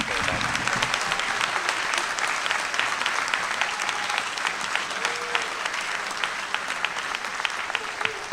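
Sustained, steady applause from an audience at an 8th grade promotion ceremony honoring recognized students, a dense, even roar of many clapping hands that holds at a constant level throughout with no speech over it.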